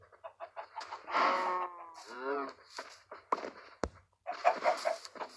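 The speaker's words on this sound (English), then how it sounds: "These chickens are very, very, very kind." Chickens in the Minecraft 1.17 update cluck in a run of short, fairly close calls, with one longer drawn-out squawk near the middle and a quieter stretch before more clucks at the end.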